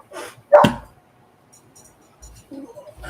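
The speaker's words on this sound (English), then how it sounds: "I'm gonna let the dog in." A pet dog barks once, loud and close, inside a home. Fainter whimpering sounds and brief quiet speech follow.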